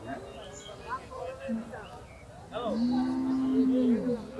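A cow at the crowded Chander Char cattle market gives a long, low moo near the end, close by, with people talking around it.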